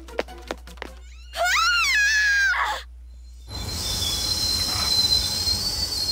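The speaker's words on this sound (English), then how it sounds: "Someone hit the brakes." Train brakes in the Persona 3 Portable video game let out a long, loud wavering metallic squeal, followed by a rumbling noisy skid; before that, a few sharp clicks play in near silence.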